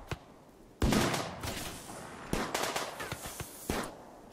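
RimWorld in-game gunfire, a scattering of sharp shots fired irregularly in small bursts, some louder and some fainter, over quiet background with no talking.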